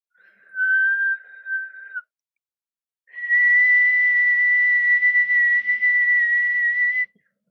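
One person whistles a single high, pure tone, first a short steady note of about a second, then after a pause a longer sustained note of several seconds, partly whistled while breathing in, close and clear with no talk.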